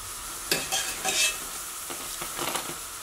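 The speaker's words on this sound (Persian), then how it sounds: "ببینید به صدای بامیه ها که من زیر و رو میکنم گوش کنید، یه صدای خشکی داره" Bamieh, Iranian fried dough pastries, sizzling in hot oil while being turned and stirred in the pan, a steady close hiss with brief scraping stirs and crackles.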